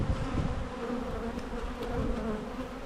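Honeybees buzz steadily around a nucleus colony hive, a dense continuous hum that stays close and fills the whole moment with no voices over it.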